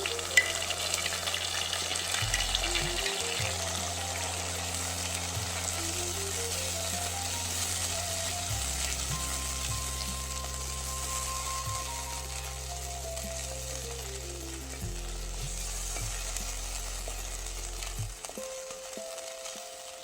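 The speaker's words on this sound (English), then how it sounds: "Now, we need to add the paalak puree to the vessel. Mix and stir it well." Palak puree being stirred into fried onion and potato in a vessel gives a steady, close sizzle with soft stirring scrapes, running under background music and no talk.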